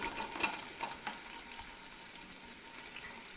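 Onions frying in a pot with oil and whole spices for spicy chicken biryani, a soft steady sizzle with light stirring clicks, close and moderately quiet.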